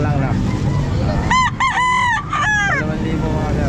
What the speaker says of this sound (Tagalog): Manok lang na.